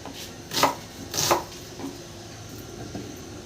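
A knife chops garlic and onion on a board, with two distinct close thuds followed by a few fainter, softer strokes and no talk.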